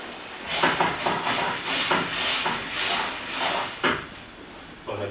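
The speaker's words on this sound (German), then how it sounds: "dann lassen wir das Ganze 4 bis 5 Minuten köcheln" Tomato sauce for Sicilian Pasta alla Norma simmers in a pot, with a steady hiss broken by rhythmic, breathy bubbling surges.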